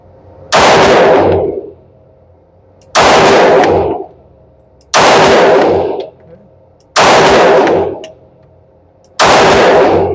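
Five loud, close gunshots from a Sig Sauer P320 X-Five DH3 9mm pistol with a tungsten-infused frame at a shooting range, evenly spaced about two seconds apart, each a sharp crack with a short ringing tail.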